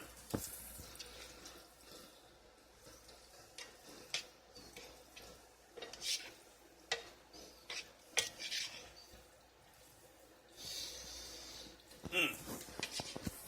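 Pork lo mein stirred in a pan, soft scraping and clinking of a utensil against metal in irregular bursts, fairly quiet and close.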